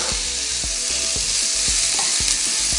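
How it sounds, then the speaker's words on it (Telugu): Onions fry in a pan with a loud, steady sizzle and hiss, while regular soft knocks of a spatula stirring the pan run through it. "జస్ట్ ఆనియన్స్ వేసుకున్నాక ఇప్పుడు మనం వేపుకోవాలి."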